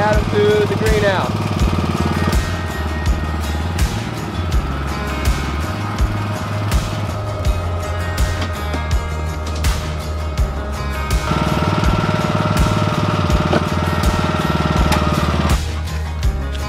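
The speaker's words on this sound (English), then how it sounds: "next pull the lawn tractor on around" A small lawn tractor engine runs close and loud, chugging steadily with a rough rattling idle that dips and swells in throttle.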